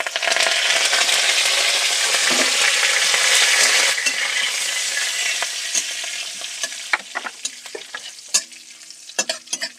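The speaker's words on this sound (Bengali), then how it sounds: "এবার এই তেলের ওপরে গোটা জিরেটা দিয়ে দিচ্ছি কারি পাতাটা দিয়ে দিচ্ছি" Whole cumin seeds and curry leaves hit hot oil in a pan with a loud, bright sizzle that gradually settles, followed by scattered light clinks and scrapes of stirring.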